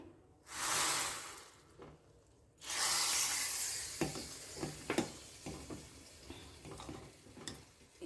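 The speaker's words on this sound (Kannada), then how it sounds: "ಈಗ ನಾನು ಒಂದು ಘಮಘಮಿಸುವ ತುಪ್ಪ ಜೀರಿಗೆ ಸ್ವಲ್ಪ ಸಾಸಿವೆ ಇಂಗಿನ ಒಗ್ಗರಣೆ ಹಾಕ್ತಾಯಿದ್ದೀನಿ" Ghee tempering of cumin, mustard seeds and asafoetida crackles into a boiling home-style rasam. Loud bursts of hot sizzling come first, then a sustained hiss with scattered seed pops and clicks. No one speaks.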